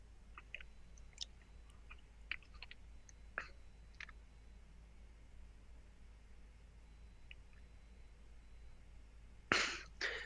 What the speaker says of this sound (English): You guys can't hear my chewing, can you?